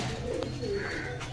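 Pigeons in a pigeon market coo softly at close range, a low rolling murmur repeating through the short moment with no talk over it.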